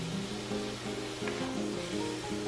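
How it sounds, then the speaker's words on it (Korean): Seasoned, blanched webfoot octopus stir-fried over medium heat gives a steady, moderate sizzle, with a continuous low mechanical hum underneath and occasional soft scraping. "불 세기는 중불, 양념한 주꾸미 볶아주세요."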